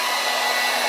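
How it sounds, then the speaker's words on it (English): A heat gun blows a steady, loud broadband hiss of hot air onto the outer ring of a polypropylene car bumper, with no voices. "Now the trick is you start with the outer ring and heating it."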